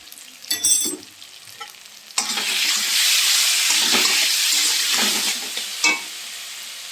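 Turmeric, cumin and coriander powder fry with potato and tomato in a pan for an egg chorchori. A loud, steady sizzle follows a few opening clatters, with spoon scrapes and stirring bursts breaking through the hiss.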